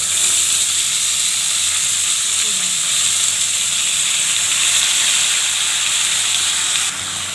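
Pumpkin and peas dropped into hot oil for a vegetable tarkari, giving a steady, loud hiss and sizzle that holds evenly throughout without a break.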